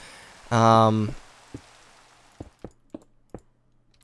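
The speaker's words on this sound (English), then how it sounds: "Oh, it's raining again." Rain falling in the Minecraft video game, heard as faint steady patter with a few sharp droplet-like ticks after a brief burst of speech at the start.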